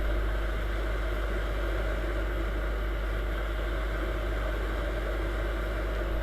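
A Viper 200 motorcycle engine runs steadily while riding through a village on an evening road, a constant close drone with a heavy low rumble and wind noise, no speech.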